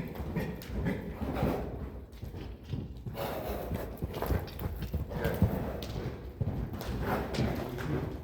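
A horse moving at a long, extended trot, its hooves clip-clopping in a steady rhythm with dull thuds on the ground throughout, close by and with no talking.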